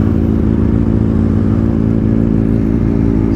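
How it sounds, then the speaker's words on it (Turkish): A Kawasaki Ninja ZX6R sport motorcycle engine runs close and loud, holding a steady, throbbing note for the whole stretch with no talking. "Bir motoru çalıştırıp bir gaz vereceğim."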